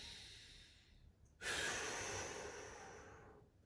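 Deep, slow breathing during a bodyweight hip stretch: a soft lead-in, then a long, strong exhale up close that fades gradually over about two seconds, with no talking.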